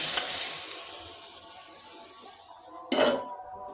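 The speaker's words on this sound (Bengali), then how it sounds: "সবজিটা আমি এই পাত্রে ঢেলে দেবো।" Cooked mixed vegetables sizzle softly in a pan under a fading hiss, then one loud scrape and clatter of a utensil against metal as they are tipped into a pot near the end.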